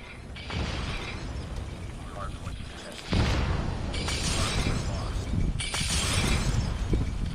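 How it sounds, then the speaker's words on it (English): Grenade explosions in Call of Duty Mobile, two heavy shattering blasts a few seconds apart over continuous loud game noise, close and harsh. "Parang grenade eh."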